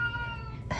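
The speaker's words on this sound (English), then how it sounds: "That's my cat crying." A house cat crying in a single drawn-out meow, close and moderately loud, with a brief muffled rustle right after it ends.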